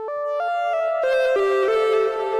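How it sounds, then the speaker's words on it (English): A 2600 synthesizer patch plays a sustained tone that steps through several pitches, loud and continuous throughout with no talking. "there's just this quiet little building thing coming out of the 2600."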